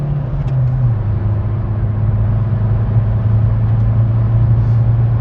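A Kia Cerato 1.6 CRDi diesel car accelerates steadily from inside the cabin, with a continuous engine drone. The pitch dips once, early on, as the gears change.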